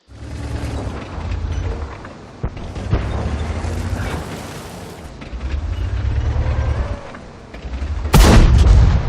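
In the World of Tanks video game, a T44-100 tank fires high-explosive cannon rounds. Heavy booms and rumbling engine noise rise and fall, ending with a sharp, loud blast.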